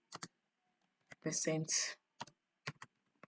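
Short bursts of computer keyboard typing between brief pauses while someone edits a Canva template, close and fairly quiet, with a louder dense flurry of keystrokes in the middle.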